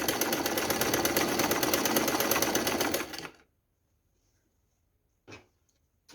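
A sewing machine stitches the neckband of a knitted school sweater with a fast, steady mechanical whir for about three seconds, then stops, followed by one brief short burst after a pause.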